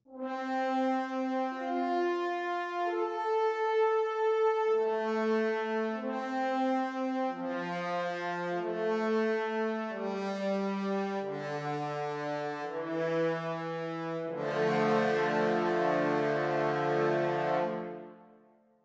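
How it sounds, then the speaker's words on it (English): A sampled brass section of horns and trombones from ProjectSAM's Symphobia library plays sustained chords that step through a slow progression, swelling to a full, loud final chord. "you also get a horns and trombones combination patch"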